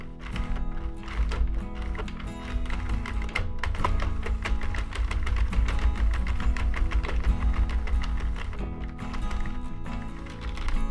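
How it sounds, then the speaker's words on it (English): A Sentro knitting machine is cranked steadily while knitting a ribbed vest, producing a continuous, close, fast rattling clatter of plastic needles clicking in an even rhythm throughout. "now I'm ready to crank all the way to the other side, which I'm going to do now"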